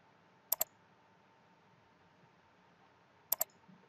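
A computer mouse clicks the delete account button for a Facebook account: two crisp double clicks, one near the start and another about three seconds later, close and distinct in a quiet room.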